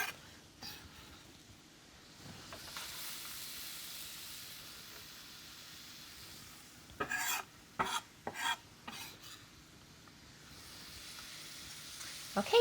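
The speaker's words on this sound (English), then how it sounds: "if it sizzles as soon as the onions go in." Chopped onion sizzles in hot olive oil in a pan, a soft steady frying hiss under sharp bursts of stirring and scraping near the end, close and fairly quiet.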